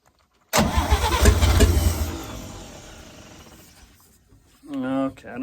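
A 1954 International Metro engine cranks and catches abruptly, running loud and rough before settling and fading to a quieter idle, followed by a short burst of nearby sound near the end.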